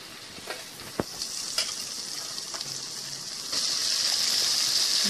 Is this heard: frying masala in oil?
yes